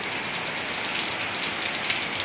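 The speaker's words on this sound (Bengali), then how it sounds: "এই দেখেন কত বৃষ্টি হইতেছে, দেখছেন?" Heavy rain falls outside in a steady, dense wash of drops drumming on surfaces, close and continuous with no pauses or talking.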